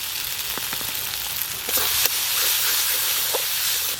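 Ground spices with turmeric fry in a pan, a close, continuous sizzle and hiss that swells partway through, with occasional light stirring taps.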